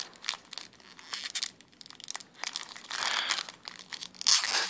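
Foil wrapper of an Ice Age trading card booster pack being torn open, a close run of crinkling and ripping bursts that swell louder toward the end, with no talking.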